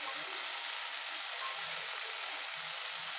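Green beans sizzle steadily in hot oil as potatoes are added for a vegetable rice sevai pulao, a constant bright frying hiss with faint stirring knocks underneath and no talking.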